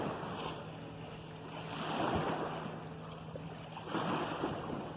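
Big waves wash against a fishing bank on open water at night, a steady broad rush that swells louder twice, with wind buffeting the microphone and no voices.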